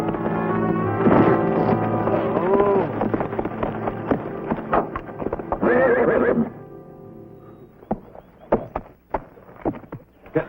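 A horse neighs and whinnies loudly while being ridden in a frontier circus setting, with a long harmonic whinny early on, then sharp irregular stamps and thuds of hooves in the latter half.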